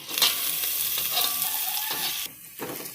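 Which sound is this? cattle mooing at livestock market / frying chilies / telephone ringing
frying chilies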